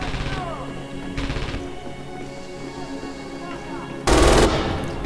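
MG 42 machine gun fire in the video game Red Orchestra 2: loud, rapid bursts, a short one at the start, another near one second, and a sharp heavy burst toward the end, with quieter battlefield noise between.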